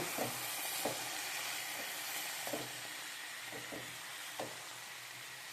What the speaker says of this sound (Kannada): ಒಂದು ನಿಮಿಷ ಆದಮೇಲೆ ತೊಳೆದಿಟ್ಕೊಂಡಿರೋ ಕೋಸನ್ನು ಹಾಕಿ ಹಾಗೆ ಕೈಯಾಡೋಣ